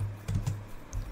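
Quiet laptop keyboard typing on an HP laptop running Windows 11, a few soft scattered keystrokes and clicks over about a second, close by with no talk.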